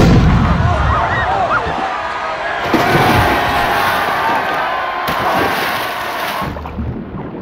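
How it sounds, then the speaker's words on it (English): Cannon fire starts the underwater task of the Triwizard Tournament, a booming report in the stands at the lake, partly buried under a large crowd cheering and roaring throughout. "You may begin at the sound of the cannon."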